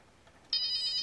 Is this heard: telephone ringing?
yes